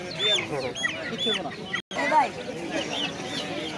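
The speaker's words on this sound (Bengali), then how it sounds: "এই যে দেখেন মাশাআল্লাহ লেয়ার মুরগির বাচ্চা, ছোট ছোট বাচ্চা" Small layer chicken chicks at a poultry market in Fatullah, Narayanganj, give a dense, continuous stream of high, thin cheeps that overlap one another, heard near with a short cut in the middle.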